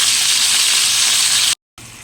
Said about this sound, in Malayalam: ചിക്കൻ നമുക്കൊന്ന് ഫ്രൈ ആക്കി എടുക്കാം.